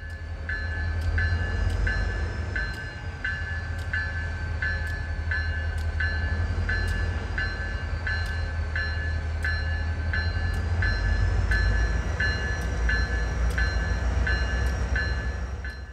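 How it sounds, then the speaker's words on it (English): A freight train led by an MPI MP20 GP-3 locomotive with a GP38-2 shell rumbles past steadily for the whole stretch, with a deep engine drone, a sustained high squeal and regular clicking wheel beats, loud and close. "Our leading locomotive, PNLX 2107, is an MPI MP20 GP-3 a unique locomotive with the shell of a GP38-2."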